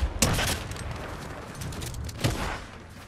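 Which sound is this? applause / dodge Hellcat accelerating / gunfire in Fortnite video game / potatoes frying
gunfire in Fortnite video game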